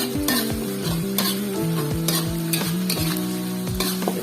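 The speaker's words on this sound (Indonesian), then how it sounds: "Kita tumis sampai matang ya Bunda" Spice paste sautés in a pan with a loud, steady sizzle. Rhythmic scraping strokes of a spatula and light metallic clinks repeat close by throughout, with no talking.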